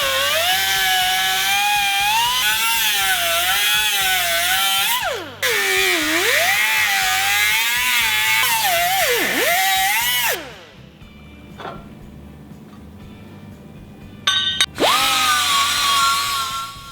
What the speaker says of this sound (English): Cut along the traced lines to notch the frame rail